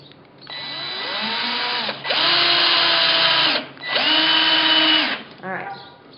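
A power drill whines in three long, close bursts, its pitch rising as each screw bites into a rotted wooden leg being rebuilt, followed by a brief final spin.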